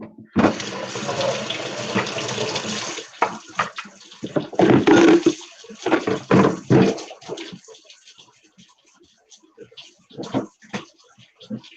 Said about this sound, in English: Get some water in.